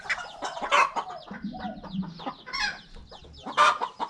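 Several bantam chickens, including old hens, cluck nearby in short, uneven bursts, a few louder calls standing out among softer murmuring clucks.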